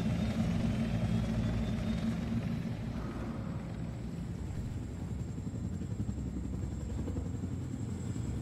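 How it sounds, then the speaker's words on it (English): Helicopter in the video game Wolfenstein: The New Order, a steady, fairly distant rotor drone and engine rumble holding for several seconds with no talk. "That's the helicopter I need"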